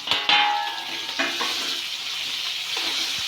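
Onion fries in a pan as part of homemade noodle preparation, a steady close sizzle with occasional clinks and stirring scrapes of a utensil.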